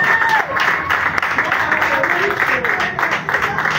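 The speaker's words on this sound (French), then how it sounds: "On acclame très fort." A crowd at a political rally for a legislative election candidate applauds and cheers in continuous clapping, while an announcer's voice speaks loudly over it.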